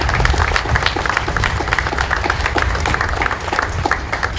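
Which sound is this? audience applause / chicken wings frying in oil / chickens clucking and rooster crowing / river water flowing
audience applause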